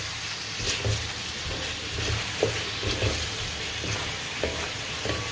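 Mee goreng mamak noodles with sauce and sawi get stirred in a frying pan, a continuous sizzle broken by repeated scraping strokes of the spatula, close and fairly loud.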